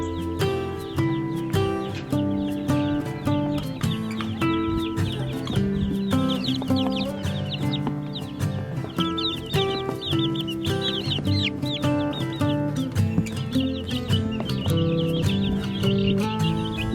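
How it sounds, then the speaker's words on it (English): Young chickens taken outdoors cluck and peep steadily and loudly at close range, with many overlapping calls filling the whole stretch. "I'm gonna take the chicks outside and let them get some fresh air and explore and eat some bugs"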